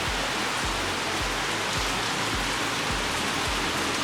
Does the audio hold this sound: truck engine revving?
no